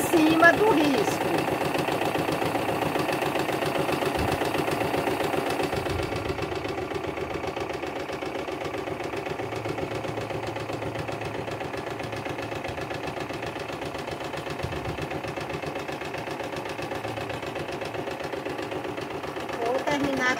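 A domestic sewing machine stitches fabric for a cloth rabbit napkin holder, running as a steady, continuous mechanical hum and whir that stays close and loud throughout.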